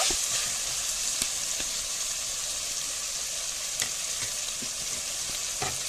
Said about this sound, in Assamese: মাংসখিনি দিয়াৰ পাছত 2-3 মিনিটমান ভালদৰে পিঁয়াজ আৰু আদা নহৰুৰ পেষ্টখিনিৰ লগত ভালদৰে ভাজি ল'ব